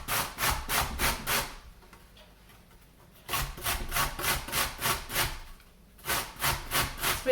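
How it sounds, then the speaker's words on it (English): Courgette is grated on a kitchen grater in quick, rhythmic rasping strokes, close and loud, with two short pauses between runs of steady grating. "And we're going to grate the courgette."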